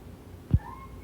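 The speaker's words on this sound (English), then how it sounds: "Don't meow at me." A house cat lets out a single short meow, close by and brief, over a quiet indoor background.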